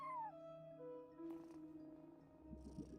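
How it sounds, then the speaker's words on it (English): A cat in the video game Genshin Impact lets out a brief falling meow followed by a couple of soft chirpy cat noises and faint rustling, quiet and close against a steady droning background hum. "I think that's just a cat."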